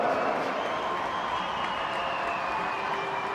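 A stadium crowd at the Riverside applauds a substituted England player during an England vs Canada women's football match, steady applause and cheering across the whole stretch.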